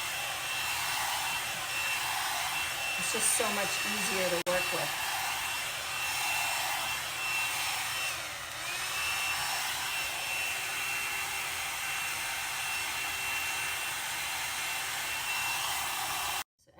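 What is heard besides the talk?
hair dryer blowing while styling hair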